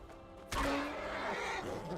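A horse in the video game Skyrim gives a single loud whinny that starts abruptly and rises, then trails off over about a second and a half, with no talk over it.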